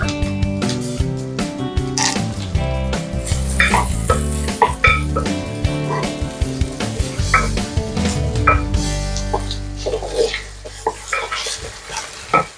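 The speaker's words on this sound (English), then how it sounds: "just saute the onion and keema for 5 to 7 minutes" Minced keema and onion sauté in hot oil in a pan, a busy crackling sizzle with repeated scraping stirs and soft utensil knocks throughout, fairly loud and close.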